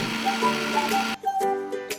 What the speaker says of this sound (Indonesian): Lalu di blender sampai halus.